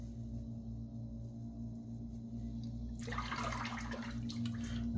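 A razor rinsed under running water, a splashing rush that starts suddenly about three seconds in over a steady low electrical hum.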